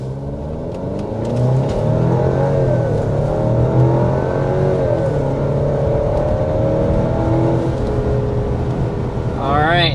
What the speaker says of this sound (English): So that was going up to 60 miles per hour. Once the turbo kicked in, she scoots pretty good.